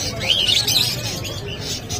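African lovebirds at a pet market in Bocaue give repeated high chirps and tweets close by, over a busy background of murmuring voices.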